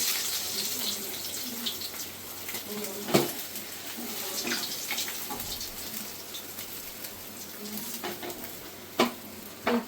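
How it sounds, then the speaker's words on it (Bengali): Katla fish pieces fry in hot oil in a home kitchen, giving a steady crackling sizzle with occasional sharp clinks of a utensil against the pan. "মাছটা ভালো করে ভাজা হয়ে গেছে, একটু দেখুন।"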